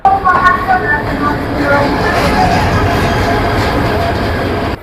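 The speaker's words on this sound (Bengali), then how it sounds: "এই মুহূর্তে আমাদের জয়ন্তিকা এক্সপ্রেস মাত্র ঢুকতেছে" The Jayantika Express rolls into a station platform in Bangladesh, a loud, steady rumble of wheels and carriages filling the whole stretch, close by, with some horn-like tones at the start.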